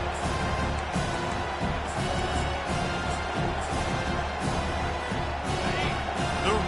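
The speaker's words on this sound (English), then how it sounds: "The roar of the crowd trying to fuel this defense to keep them pinned in their own end" Steady crowd roar fills a college football video game stadium, a continuous dense wash of noise holding at an even level throughout.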